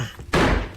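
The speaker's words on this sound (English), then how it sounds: "we're gonna, kick this door in, trying to get that money" A door is kicked in during a video game set in the Bronx: a sudden heavy slam bursts out close and loud after a brief muffled lead-in, followed by a dense, noisy crash that fades out.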